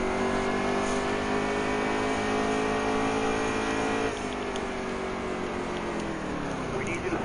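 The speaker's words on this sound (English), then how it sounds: "Throttle up, downshift." A NASCAR Heat 3 Xfinity Series race car engine at Iowa drones loudly at high revs, then drops sharply in pitch partway through as the throttle comes off and it downshifts, continuing at a lower, steadier note.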